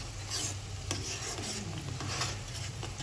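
A spoon scrapes and stirs bitter gourd curry with lentils (kandi pappu) in a pan, a soft continuous rasping with faint sizzling, close and alone.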